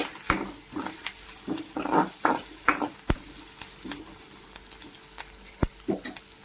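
Curry leaves fry in a pan while Hakka noodles are being cooked, with a continuous close sizzle broken by repeated spatula knocks and scrapes against the pan, and no speech.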